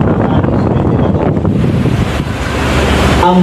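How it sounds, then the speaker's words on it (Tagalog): An electric fan blows steady, loud, broadband rushing air close to the microphone, with constant wind noise buffeting throughout and no voices. "Hindi na importante kung may matunog na hangin na mga kakalis sa ventilador."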